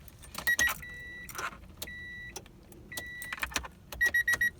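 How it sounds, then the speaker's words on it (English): A Honda Integra with a dead starter gives only small relay clicks as the key turns, quiet and close, mixed with jangling keys, a few chimes and cabin shuffling. "You just hear the click from the relay, but not like that click from the starter."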